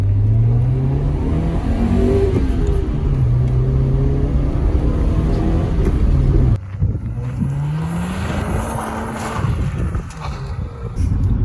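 A Honda EK Civic drives along a country road, its engine revving and climbing through gears with rising and falling tones, loud and close from inside the car, with a brief shift break partway through.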